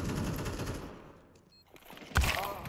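Gunfire in a Counter-Strike 2 match, with dense bursts at the start, a brief lull, then a loud fresh volley of shots near the end.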